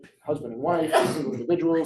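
A single sneeze bursts out in the middle of a team meeting, close to the microphone, as a person talks through and around it.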